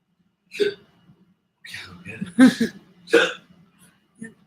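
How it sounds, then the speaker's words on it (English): Several hiccups, one at a time with irregular gaps, fairly loud and close, with no talking in between. "Hiccups?"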